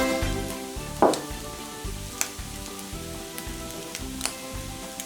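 Fried chicken pieces for chicken koththu sizzle steadily in a hot pan, with a few sharp clatters of a utensil stirring and tapping against the metal over the continuous frying hiss.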